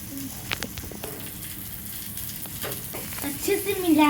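Egg bhurji sizzling and being stirred in a pan, a continuous close frying crackle with spatula scrapes, while a bird coos faintly in the background near the end.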